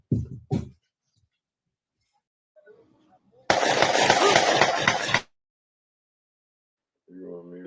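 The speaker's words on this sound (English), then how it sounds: "so this is automatic gunfire" Automatic gunfire erupts in a dense, loud burst lasting about two seconds, preceded by a couple of sharp single shots and followed by faint voices.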